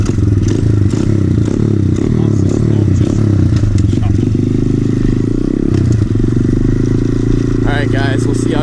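An SSR 110cc pit bike with an FMF exhaust, warmed up after riding, runs loud and close with a steady engine drone, clattering and popping backfires scattered through, and a few high squeaky bursts near the end.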